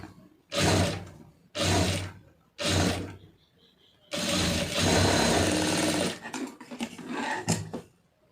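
A sewing machine stitches a blouse lining in short bursts, three quick runs followed by a longer steady whirring stretch and then choppier stop-start stitching, loud and close with no talk.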